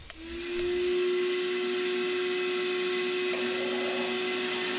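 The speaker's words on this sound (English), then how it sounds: "So this is where I cut the rough shape out on the bandsaw." A bandsaw cutting the rough shape of a wooden cutting board from a template, a loud steady whining hum that starts up and runs continuously near the microphone, with no talking.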